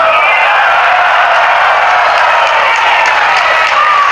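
A loud crowd at a religious sermon gathering in Sabah applauds continuously, a dense steady wash of many hands clapping with faint cheering, close and unbroken throughout.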